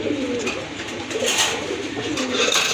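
Fancy pigeons cooing close by, soft repeated throaty calls over a steady background hum.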